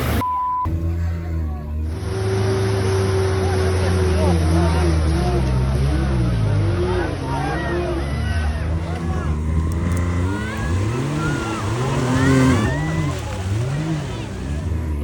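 A homemade 4x4 buggy engine revs repeatedly under throttle, rising and falling in pitch close by, with voices talking over it.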